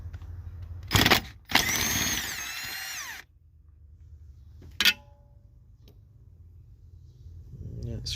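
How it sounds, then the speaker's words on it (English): A power drill whirs in short bursts while backing screws out during a water pump replacement on a 1994 Ford F150: a quick spurt, a longer run of about two seconds, then another brief burst, all close by. "So we just got to take the screws out."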